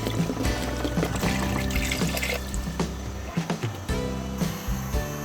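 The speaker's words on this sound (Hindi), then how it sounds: "तो ये मैं इसमें डाल रहा हूँ पानी" Close, loud, continuous splashing and gushing of about four litres of water being poured into a pot of mutton trotters for Lahori mutton paya, with occasional dull clunks of the vessel.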